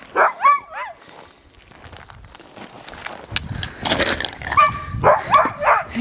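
Small dogs yipping and barking indoors, a quick cluster of high barks at the start, then shuffling and pawing, then another burst of barks near the end, fairly close.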